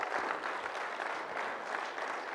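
A keynote audience at a Wi-Fi conference claps together in a sustained, fairly distant round of applause, steady and unbroken.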